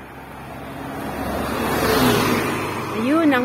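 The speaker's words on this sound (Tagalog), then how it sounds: "Ayun, ang bus. Naiwan ako." A bus pulls away along a road, its engine rumble swelling and fading as it leaves, with a faint whine or whistle near the end; moderately loud and continuous.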